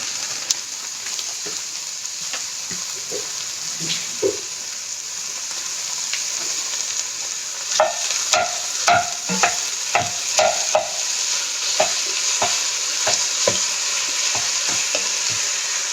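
Ground beef, about a pound, sizzles steadily in a pan for taco soup while a utensil scrapes and stirs it in repeated clicks and scuffs, all close and without talk.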